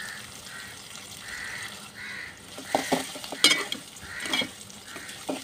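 Onions and green chilies fry for beresta in a pan, a soft sizzle with intermittent stirring scrapes that grow louder and busier toward the end, heard close without talk.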